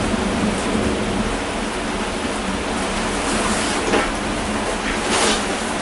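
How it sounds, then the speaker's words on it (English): Rain falling on a cable car in Singapore, a constant hissing wash of drops drumming on the cabin with a few brief louder surges, continuous and close. "And we're in the rain on a cable car, no less."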